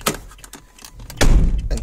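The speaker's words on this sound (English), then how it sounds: "Open and close driver's door once." Driver's door of a 2010 Renault Kangoo being opened: a few light latch clicks, then a loud, close metallic thunk as the door swings.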